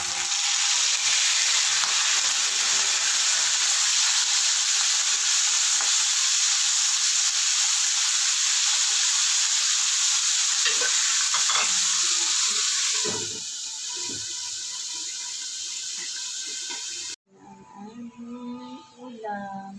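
Okra, bitter gourd and long beans sizzle loudly in a little oil in a non-stick pan, a dense steady crackle with stirring scrapes that eases near the end before a voice takes over briefly.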